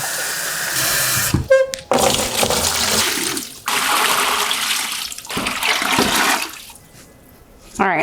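Tap water gushes steadily into a 1 gallon pitcher, a loud, close, continuous rush with a few brief breaks and shifts in tone as the flow moves, easing off near the end.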